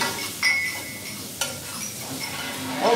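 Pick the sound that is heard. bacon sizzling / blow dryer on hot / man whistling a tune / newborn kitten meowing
bacon sizzling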